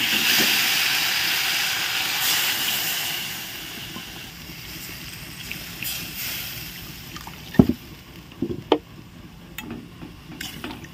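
Potatoes and eggplant frying together in hot oil after a black cumin tempering, a steady broad sizzle and hiss throughout, loud at first then settling, with a few sharp pops and clatters near the end.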